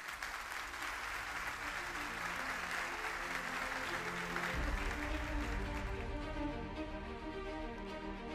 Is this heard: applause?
yes